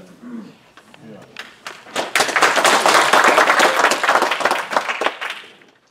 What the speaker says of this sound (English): if y'all would hold the applause so we can get through this